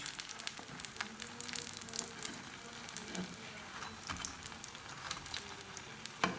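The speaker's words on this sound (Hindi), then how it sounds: "दूसरी साइड पे मैंने पराठा जो है ना, बाज़ार का पराठा है वो जो है ना फ्राई कर रही हूँ।" Store-bought paratha and tikkis fry together on a pan over moderate flame, giving a steady close sizzle with crackly spatter and occasional spatula scrapes as pieces are turned, no voices over it.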